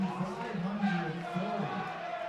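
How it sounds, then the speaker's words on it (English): A crowd of about 4,500 at an Evansville Otters versus Tri-City ValleyCats baseball game, a broad steady murmur and cheer filling the stadium behind a voice that talks over it. "Man, still listen to this crowd."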